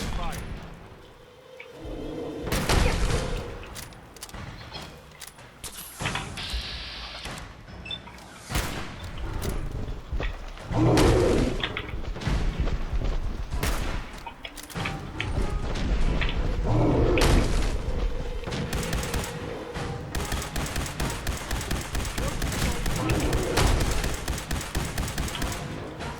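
Gunfire in the Fallout 4 video game comes as repeated loud thumping shots and blasts spread through the clip, with someone talking over the bursts.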